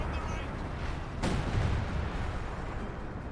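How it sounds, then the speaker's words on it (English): Base artillery barrage in Company of Heroes 2, a sharp boom rising out of dense continuous battle noise, with rumbling explosions and gunfire underneath throughout. "Now we do have the artillery barrage, base artillery"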